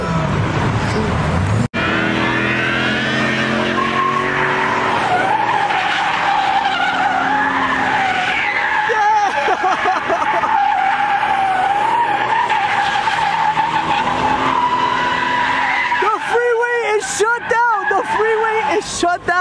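A Lamborghini and a Rolls Royce spin donuts on a shut-down freeway, tires screaming in a continuous loud wavering squeal over revving engines, with a crowd shouting and cheering throughout.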